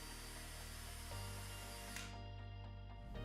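A power drill pre-drills screw holes for a Roman shade mounting bracket, a close, loud, high whine that holds steady and then shifts in pitch as the bit bites.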